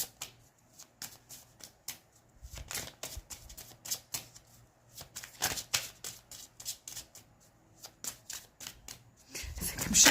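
Tarot cards being shuffled vigorously by hand, a fast irregular run of crisp riffling slaps and flicks, close and fairly quiet, with no talking, ending in a louder burst.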